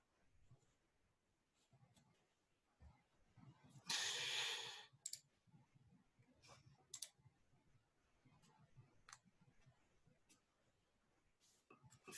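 Computer mouse gives scattered, sharp, quiet clicks at irregular intervals, with one louder rustling burst partway through and faint speech in the background.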